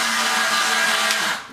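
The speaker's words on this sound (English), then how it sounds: "my screw gun here, and I'm just gonna snug these up" A cordless screw gun snugs screws into a carbon fiber front splitter on a car, a steady high-pitched whir running close and loud for most of the moment before it eases off at the end.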